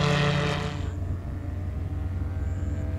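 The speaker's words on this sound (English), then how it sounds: "On June 25th, 2021, there goes Matthew on his first takeoff." A Revo light aircraft on its first takeoff, flying in a crosswind, gives a steady engine and propeller drone that is loudest at the start and then settles into a continuous hum at moderate distance, with no talk.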